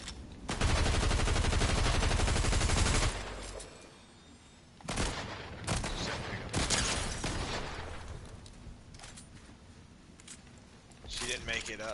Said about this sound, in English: this guy's missing none of his shots